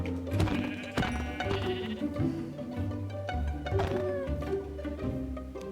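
Sheep in Minecraft bleat over and over, overlapping wavering calls that stay loud and near, with game music or ambience running steadily underneath.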